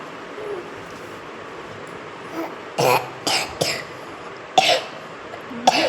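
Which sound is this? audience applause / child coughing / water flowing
child coughing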